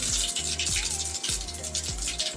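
Cumin seeds added to hot oil with mustard seeds for tempering, a close, continuous hissing crackle with rhythmic dull thumps beneath.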